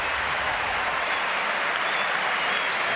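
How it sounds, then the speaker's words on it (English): Crowd applause fills a tennis stadium in Washington after a point in the 2002 Blake versus Agassi match: a dense, steady roar of clapping that holds at an even level from start to finish. "And this crowd, a big hand."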